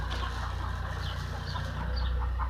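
Chickens cluck on a small farm also holding turkeys, ducks, cows and horses, a busy overlapping chorus of short calls heard at moderate distance with a steady outdoor background and no talk.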